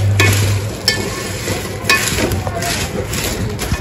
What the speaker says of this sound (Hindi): मसालों को अच्छे से इसको भून लूँगी।